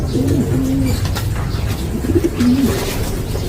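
Pigeons coo softly in a few short repeated phrases, set against steady outdoor background noise with some faint chirps.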